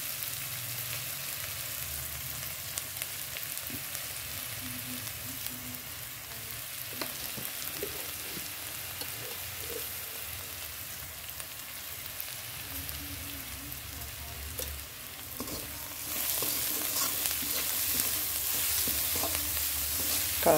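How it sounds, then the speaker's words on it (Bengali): Chopped onions fry in a pan, seasoned with salt and sugar, giving a steady, fairly loud sizzle with occasional stirring scrapes that swells a little louder near the end; no one speaks. "এবার এখানে পেঁয়াজটা দিয়ে দিলাম, পেঁয়াজটা ভেজে নিই।"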